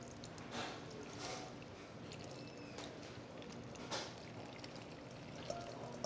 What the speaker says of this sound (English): We're going to pour it all at once into the well and the flour.